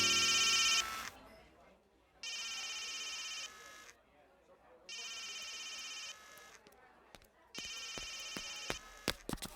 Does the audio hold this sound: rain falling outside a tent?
no